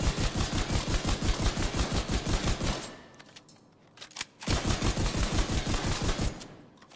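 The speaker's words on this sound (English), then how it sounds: "Shotgun." An ACS-12 automatic shotgun in the video game The Division firing in two sustained rapid bursts of heavy, evenly paced blasts, loud and close, separated by a brief lull of quieter game noise.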